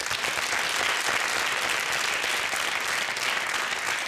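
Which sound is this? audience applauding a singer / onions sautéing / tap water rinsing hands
audience applauding a singer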